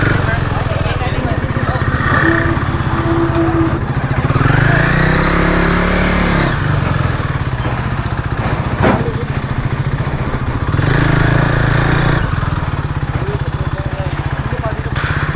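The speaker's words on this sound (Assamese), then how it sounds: "এতিয়া বাইকখন নমাই দিওঁ।" A motorcycle is wheeled and ridden off a river ferry on a ride from Jorhat to Majuli, its engine running close by and rising in brief revs over a steady rumbling idle, with voices speaking throughout.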